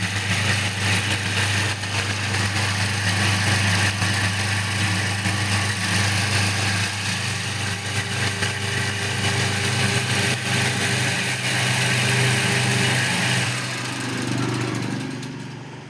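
An electric motor runs on its running coil with a loud steady hum and whir, close by, holding even for most of the stretch before the tone shifts and dips near the end, with no one speaking.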